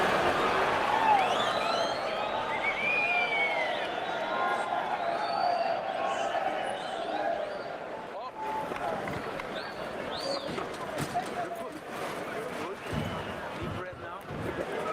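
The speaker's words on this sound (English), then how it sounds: "They're applauding him, and they should" A boxing crowd at a bout claps and cheers for a boxer heading back to his corner, a steady wash of applause and noise from the arena that runs on under a commentator's voice.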